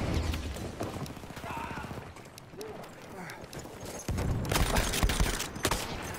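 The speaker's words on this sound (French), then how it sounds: "Pourquoi je tire au coup par coup?" Rifle fired single shot at a time in the video game Battlefield 1, several spaced bangs amid gameplay noise and clattering, with someone talking over the action.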